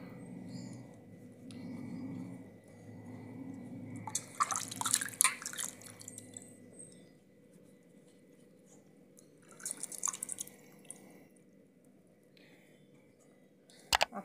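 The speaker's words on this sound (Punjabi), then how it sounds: "ਆਹ ਕੱਦੂ ਹੈ ਅਤੇ ਇਹਨੂੰ ਆਪਾਂ ਪਾਣੀ 'ਚ ਪਹਿਲਾਂ ਧੋਵਾਂਗੇ।" A bottle gourd is washed in water, with two short bursts of splashing and dripping, one longer and one brief, against a quiet room background.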